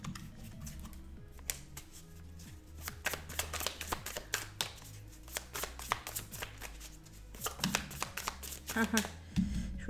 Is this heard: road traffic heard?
no